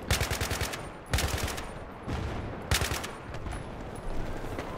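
Gunfire in Battlefield 3 on the Sharqi Peninsula map, from an AK-74 support loadout in a Conquest match: loud bursts of automatic fire come in several clusters over steady battlefield rumble.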